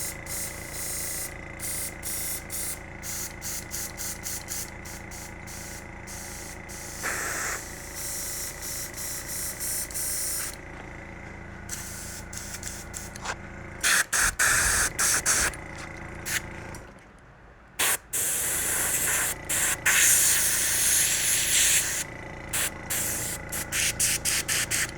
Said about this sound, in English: So I'll just pour some cleaner in there like that, spray it through.